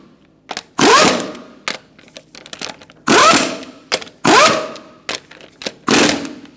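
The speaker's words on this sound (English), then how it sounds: "Using a 21mm socket, we're going to tighten up our lug nuts." Lug nuts on a Chrysler 300 wheel are tightened with a 21mm socket on an impact tool, giving several loud buzzing bursts separated by short clicks and pauses.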